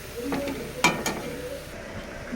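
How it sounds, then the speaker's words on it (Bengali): Marinated chicken pieces frying in a pan for a homemade pizza topping, a soft steady sizzle with a couple of brief stirring clatters near the start. "এই ম্যারিনেট করা মাংসটাকে একটু ফ্রাই করে নিচ্ছি"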